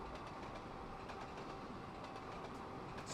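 A fast train in the Trainz Driver Journeys 2 game on an Iberian route runs along steadily, a continuous broadband rumble with faint rhythmic clicks, constant and moderately quiet with no talk.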